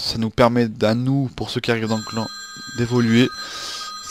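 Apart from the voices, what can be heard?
phone ringing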